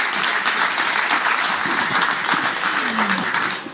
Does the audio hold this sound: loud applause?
yes